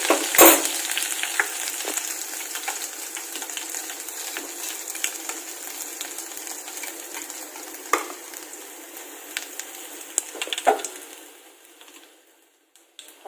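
Ginger garlic paste dropped into hot oil, opening with a sharp burst of sizzle that settles into a steady crackling fry with occasional pops, close and clear, fading out at the end.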